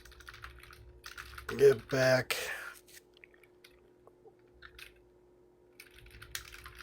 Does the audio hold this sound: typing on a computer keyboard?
yes